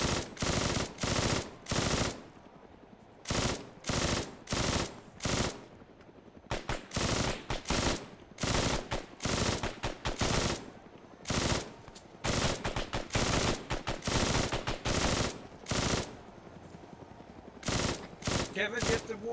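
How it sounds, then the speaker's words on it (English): Rapid bursts of automatic gunfire in a military shooter video game, loud and close, firing in repeated volleys with brief pauses between them across the whole stretch. "Did my gun overheat? Someone shot at us."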